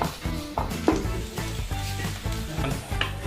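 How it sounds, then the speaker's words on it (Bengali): Dried red chillies frying in a pan while being stirred, soft sizzling under repeated scraping and knocking of a utensil against the pan in an uneven rhythm. "তার মধ্যে দুটো শুকনো লঙ্কা দিয়ে দিলাম ভালো করে নেড়ে চেড়ে"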